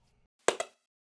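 Simulated hand clap echoing off four stone pyramid steps at Chichén Itzá, heard as one sharp clap quickly followed by a second fainter repeat, a brief close double burst alone in silence.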